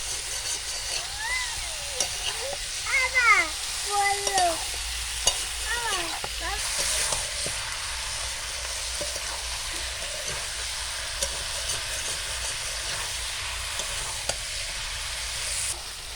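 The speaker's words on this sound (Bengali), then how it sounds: "এবার এটাকে আমি হালকা আঁচে খুব ভালো করে কষিয়ে নেব।" Chicken spare parts masala cooks village style on low heat, a steady soft sizzle under scraping stirs, with brief bird-like chirps and a faint distant rumble behind.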